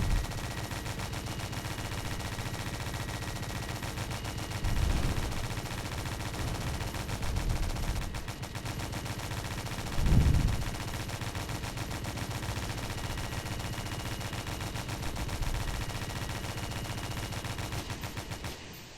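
Video game gunfire crackles through a long stretch, rapid bursts and sustained automatic fire with a few heavier booms, loud and continuous against a busy game soundscape, with no talk.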